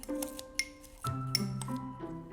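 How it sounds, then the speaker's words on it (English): Scissors snip fresh parsley packed into a cup: a few quiet, crisp cuts close by, with light clinks against the cup between them. "Put it in a cup and then just snip it with scissors."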